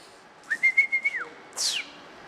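A person whistles to call a cat: a sustained, level tone with a wavering start, then a short rising-falling whistle follows after a brief pause.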